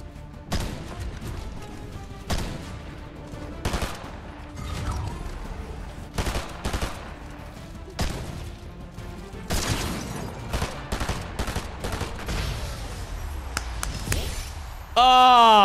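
Sharp bursts of gunfire from a ranked online shooter game ring out in scattered clusters, some rapid, under a player's ongoing commentary, ending in a loud burst.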